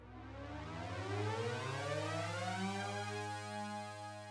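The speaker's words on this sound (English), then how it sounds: "It's a THX patch here, and that sounds like this." A huge THX-style synth chord from TAL-NoiseMaker, many gliding tones sweeping and spreading over a sustained low drone, swelling into a rich, cinematic sustained sound.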